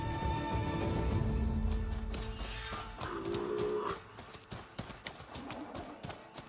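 A machine horse mount in Horizon Forbidden West trots with a steady clip-clop of hooves, mixed with sustained tonal game sounds throughout.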